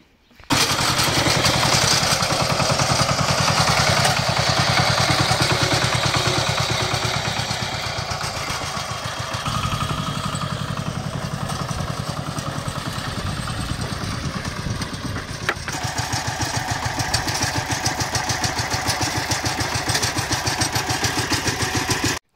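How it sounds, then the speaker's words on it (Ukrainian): A walk-behind tractor pulling a riddle-type potato digger in dry soil runs with a steady, loud chugging engine drone, with rattling and clanking from the digger throughout and no talk. "Так, ну така робота сьогодні була з копанням картошки іменно мотоблоком."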